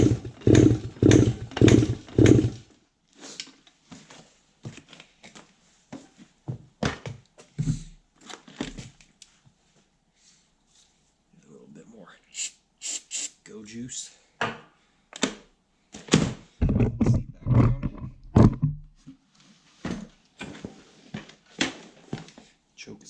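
A 1974 Honda MT125 Elsinore motorcycle engine fires and runs in short, rough bursts, sputtering and dying between attempts, with quiet gaps and handling noises in between.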